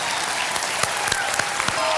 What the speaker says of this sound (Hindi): आप तालियां प्लीज